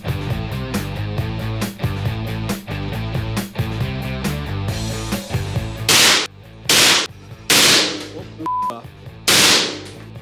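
Gunfire at a shooting range: a stretch of loud rapid repeating shots, followed by several separate sharp cracks spaced about a second apart, close and dominant.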